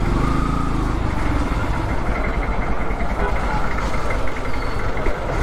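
Engine of a Yamaha R15 V3 motorcycle being parked outside a hotel, a close, rumbling idle that holds steady throughout, with voices talking over it.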